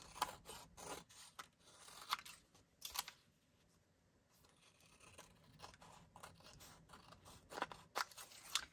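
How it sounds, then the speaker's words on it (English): Scissors trimming excess paper from a handmade card: quiet, close snips and crisp paper crunches in irregular clusters, with a short lull in the middle. "we just gotta trim that excess top off"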